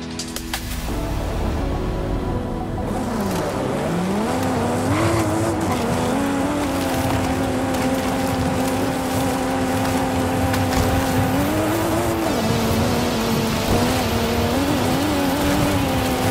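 Racing car engine in Forza Horizon 5, a loud sustained drone whose pitch dips and climbs through gear changes and revs, with tire noise underneath, continuous throughout.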